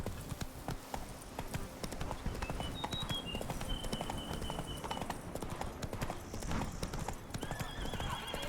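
Hoofbeats of the horse Roach galloping in The Witcher 3, a fast continuous clip-clop under a busy game soundscape, with a whinny and some faint speech in the mix.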